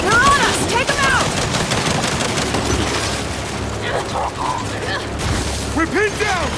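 Turret gunfire in Gears 5 rattles in rapid mechanical bursts through a busy combat soundscape, with clanking mechanisms and shouted voices over the shooting.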